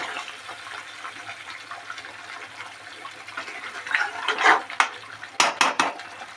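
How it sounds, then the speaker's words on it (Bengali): Chicken curry in a pot with a little hot water added is stirred with a utensil, giving soft scraping and sloshing, then a few sharp metallic clinks as the lid goes on, close by. "সামান্য একটু দিয়ে আবার নেড়ে এটাকে ঢাকা দেব।"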